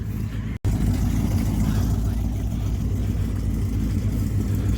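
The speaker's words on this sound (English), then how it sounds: "So it's the Mustang. Just managed to get it before it pulls away. Get the noise of the exhaust." A Ford Mustang at a vintage vehicle rally in a country park, its engine idling with a deep, loud exhaust rumble, close and steady after a brief dropout at the start.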